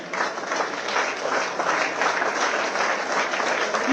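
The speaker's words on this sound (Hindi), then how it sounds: "एक बार आप सबकी जोरदार तालियां।" Steady, loud audience applause fills a state honor ceremony at a chief minister's residence for a women's World Cup cricket winner, a continuous dense wash of many hands clapping with no break.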